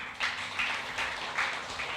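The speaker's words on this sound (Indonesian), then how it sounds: "Bisa tepuk tangan Bu? Boleh tepuk tangan." A church congregation claps together in a steady rhythm during a worship service, with regular beats about every half second, moderately loud and filling the room, with no voices over it.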